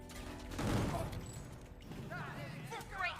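Gunfire in the Gungrave G.O.R.E video game: a dense burst of rapid shots and impacts up front, then scattered clatter and mechanical noise, with game effects continuing behind.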